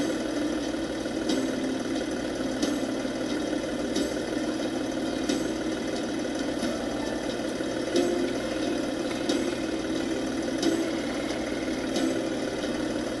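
A tractor engine drives in the farming game Professional Farmer 2014, a steady mid-pitched hum that idles along evenly throughout with faint periodic ticks.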